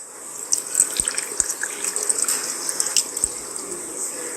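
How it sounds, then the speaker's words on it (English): Water splashes and trickles into a rock tumbler barrel, bright and close, with a few soft knocks under the running flow. "I guess we need to add some water to it."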